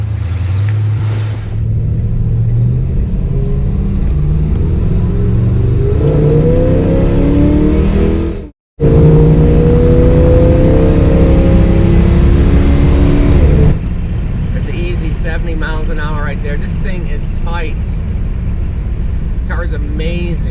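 A 1968 Dodge Super Bee muscle car rolling out and driving, its engine a steady low rumble with rising revs, loud and close, running under continuous talk with one brief cutout.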